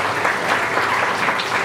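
Loud, steady audience applause at an awards ceremony, a dense wash of clapping that fills the room for the whole moment.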